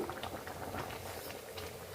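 Beef curry bubbling steadily in a pan as it reduces, a dense, continuous simmering patter close up with no talk over it.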